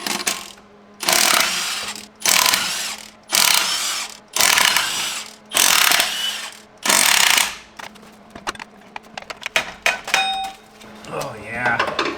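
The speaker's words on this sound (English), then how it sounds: "we've got a few 10 millimeter bolts to yoink off. I've got an impact" An impact wrench rattles off 10 millimeter flywheel bolts on a Subaru WRX FA20 during a clutch job, firing in six loud, separate bursts, followed by clinks of loose parts and a voice talking.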